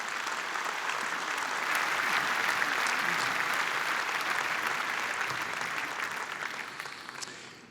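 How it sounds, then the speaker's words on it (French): Sustained applause from a large audience, steady and full for several seconds before tapering off at the end. "Vous pouvez les applaudir, vous avez raison."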